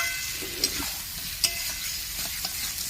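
Mutton curry with fried potatoes sizzles hard while being sautéed in a pan, a dense continuous hiss broken by several sharp spoon scrapes and clicks close by.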